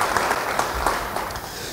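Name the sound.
congregation applauding in church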